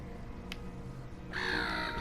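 Crow caw from a player who has turned into a bird in the game Everything: one loud, harsh call arriving near the end after a faint, quiet background.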